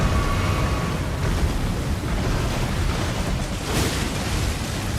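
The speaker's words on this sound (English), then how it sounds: "he shouldn't really hit you with an AoE explosion that's underneath him" A boss's area-of-effect explosion in Elden Ring erupts as a dense, roaring burst of noise that fills the space for several seconds, swelling near the end.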